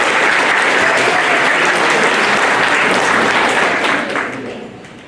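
A school audience at a middle school seventh-grade academic awards ceremony applauds students, a loud, thick wash of clapping that holds steady, then fades away over the final second.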